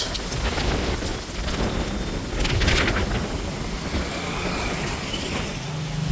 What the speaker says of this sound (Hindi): सुबह की शुरुआत देखो, कितनी आंधी तूफान से हो रही है, तकड़ी आंधी